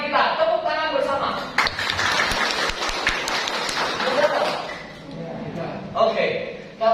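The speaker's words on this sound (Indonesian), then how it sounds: "Jurus pertama kita, tepuk tangan bersama" Group hand clapping at a teachers' training session in Indonesia, a dense burst of claps running through most of the stretch with talk over the start and end.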